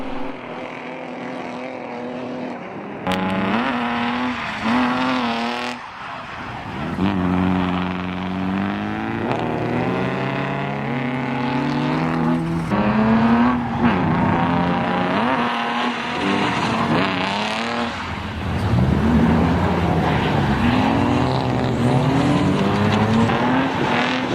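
A BMW E36 drift car's engine revs hard and holds high, with rising and falling pitch sweeps as the throttle works near the 5,500 RPM limiter. The engine is loud and continuous, close up, with no talking.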